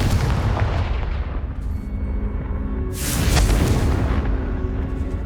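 A Confringo blasting spell in Hogwarts Legacy sets off booming explosions, a deep rumbling blast followed by a second louder burst with a bright crackling tail, with no voices.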